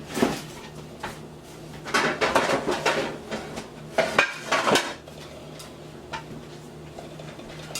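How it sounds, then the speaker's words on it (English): Metal pans clatter and clank as stuffing goes into a pan for a Thanksgiving dinner, with a burst of close knocks and scrapes in the middle and lighter taps on either side. "Going to get this into its pan so we can get her started."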